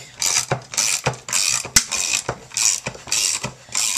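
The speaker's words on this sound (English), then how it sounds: "You can hear the ratchet." Repeated mechanical ratcheting as the hand crank of a die cutting machine turns, rhythmic clicking bursts with a couple of sharper clacks, close up and fairly loud.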